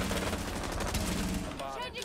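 Rapid gunfire from another player shooting in the Thunderbird video game, a dense, loud burst of shots that runs almost without pause, with a voice breaking in briefly near the end.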